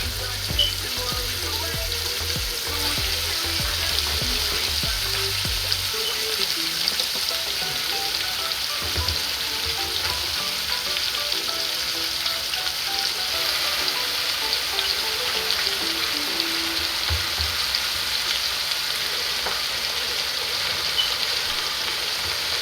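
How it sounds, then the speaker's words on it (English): Cabbage sizzling in a pot for Jamaican cabbage and saltfish, a steady hissing crackle that carries on throughout, with a low rumble in the first few seconds. "I'm gonna go ahead and add my cabbage"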